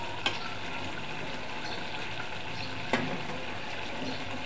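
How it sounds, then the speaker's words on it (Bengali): Shrimp and potato curry sizzles steadily in the pan as liquid is poured in, with a couple of sharp clinks from utensils over the continuous frying hiss. "এখন আমি ঝোল দিয়ে দিব।"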